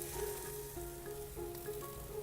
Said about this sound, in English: Listen to that sizzle. That tells you the grill is nice and hot,